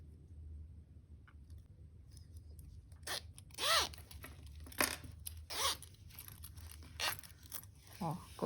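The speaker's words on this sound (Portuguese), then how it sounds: "vou colocar um entrando de uma ponta e o outro entrando de outra ponta do zíper" Two zipper sliders are threaded onto opposite ends of a zipper for a pencil case, giving a series of short, sharp zipping rasps over a low background hum, spaced irregularly and fairly close.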